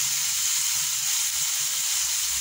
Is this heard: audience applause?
no